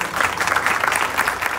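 An audience at a Home Minister game-show event claps in dense, steady applause that stays loud and even for the whole short stretch.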